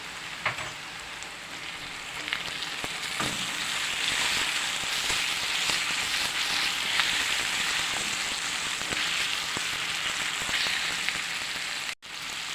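Tomato tossed into a pan of stewing carrots, part of a rustic stewed bell pepper dish, sets off a steady, dense sizzle that hisses evenly and loudly throughout with no talking.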